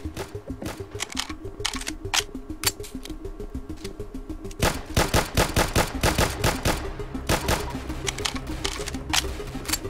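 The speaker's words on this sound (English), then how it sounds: "Yes, use your machine gun." Machine gun fire in a video game: rapid bursts of sharp shots, sparse at first, then longer, denser volleys in the second half, loud and close.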